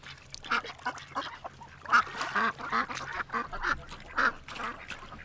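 Farmyard ducks quack repeatedly in short, irregular bursts of nasal calls, fairly close and moderately loud, with a few overlapping voices from a group being offered soggy treats during winter chores.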